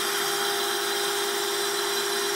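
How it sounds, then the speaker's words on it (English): Homemade CNC machine built from MDF with stepper motors and a small router as its spindle, giving a steady, even high-pitched whine with a strong sustained tone, running alone without pause. "Here we have a homemade CNC machine"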